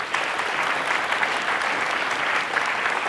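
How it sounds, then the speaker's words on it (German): An audience at a World Usability Day talk in Hamburg applauds at the end of a presentation, with steady dense clapping from a room full of people throughout. "Applaus"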